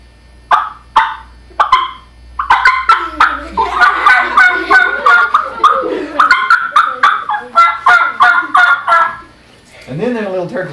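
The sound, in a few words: voice imitating louder mother turkey call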